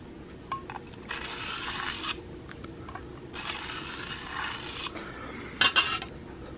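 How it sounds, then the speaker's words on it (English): A broadhead blade edge is stroked across a 1200 grit sharpening stone in a guide, giving several bursts of dry, steady rasping that stop and start, close and fairly quiet, with no voices. "You break off the 1200 grit burr with the same 1200 grit"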